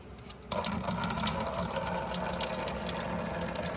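Coolant pours out of the opened radiator drain valve on a 3rd generation Toyota 4Runner, starting abruptly after half a second as a steady, close rushing splash.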